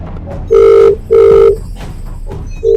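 A telephone rings in a Telugu crime film, with two loud, steady electronic ring bursts close together and the start of a third. Low background sound from the film runs underneath.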